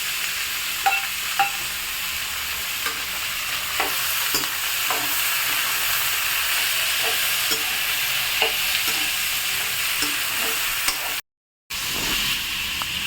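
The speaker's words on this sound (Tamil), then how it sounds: "வெங்காயம், பூண்டு எல்லாத்தையும் சிறுதாக வதக்கிட்டு அப்புறமா பாவக்காயை வதக்கணும்" Onions, garlic and bitter gourd sautéing in a pan for a chutney, a continuous close sizzle broken by scattered stirring clicks and scrapes, with one brief dropout near the end and no talking.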